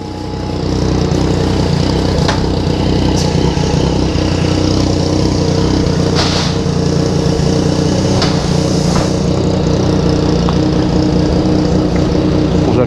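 Yamaha MT-09 motorcycle fitted with an Atalla stainless steel exhaust, its engine running loud and close with a deep, steady drone and occasional sharp clicks and revs.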